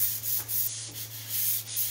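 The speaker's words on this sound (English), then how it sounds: "I'm just gonna sand it a little bit just to knock down." A sanding sponge rubs back and forth over a painted cabinet shutter door, giving close, soft scratchy strokes in an even rhythm of about five passes with a low hum underneath.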